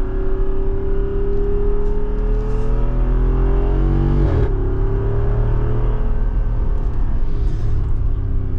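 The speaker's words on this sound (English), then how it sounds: "fourth gear right now, gonna downshift to third and second" A Jeep Wrangler Rubicon 392 V8 engine roars steadily while driving, with its pitch sweeping down at about four seconds as it downshifts through the gears, then rising and droning again. The engine sounds loud and close, with no talk.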